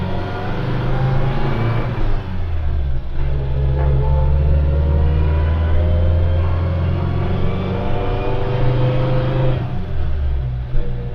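A 1960s New Zealand-built Trekka car's engine drives along, revving and pulling with a loud, rough mechanical drone, its pitch shifting slightly as it accelerates and eases.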